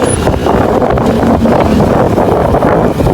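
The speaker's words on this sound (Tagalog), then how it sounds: "Dahil pinapalipad na po yung motor." Motorcycle speeding along a road, with steady, loud wind buffeting the microphone throughout and a broadband engine-and-road roar underneath, no talk.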